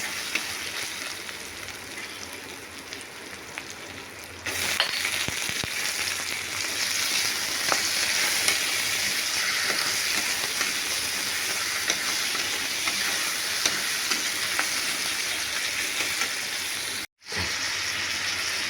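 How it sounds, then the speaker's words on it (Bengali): Chicken pieces fry and get stirred with ginger and garlic in a pan, a steady broadband sizzle that grows louder after a few seconds, with occasional scraping stir sounds and a brief cut near the end. "আদা রসুন দিয়ে দিয়েছি, দিয়ে এটাকে নাড়ছি ভালো করে,"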